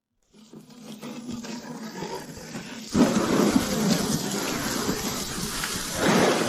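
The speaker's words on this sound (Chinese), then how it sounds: "又是熟悉的大雨。" Heavy rain and thunder in an animated drama: a steady, dense roar of downpour that swells sharply about halfway through and surges again near the end, with no voices.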